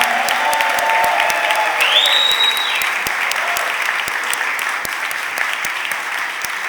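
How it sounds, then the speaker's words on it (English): Sustained audience applause fills a city council chamber in Philadelphia, a dense steady clatter of many hands at fairly close range, with a brief whistle partway through and the clapping continuing evenly to the end. "Could we give them a real big round of applause and celebrate our youth?"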